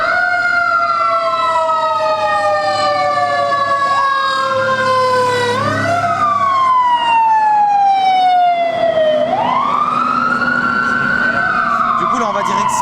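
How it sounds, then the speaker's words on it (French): A fire truck siren wails loudly along a Beverly Hills street in Los Angeles, its rising and falling tones sweeping and bending as the truck passes close, with traffic rumble beneath and voices speaking over it. "c'est un camion de pompiers qui passe"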